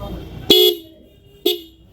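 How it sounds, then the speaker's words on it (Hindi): Two short horn blasts from a 2026 Bajaj Pulsar 220F motorcycle, each loud and close with a steady buzzing tone, the first slightly longer, separated by about a second of quiet. "हॉर्न एक बार सुना देते हैं आपको।"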